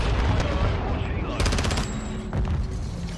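Automatic VEL 46 gunfire in Modern Warfare 2, a fast rattling burst of shots that starts partway through and sits among other loud battle noise and game effects.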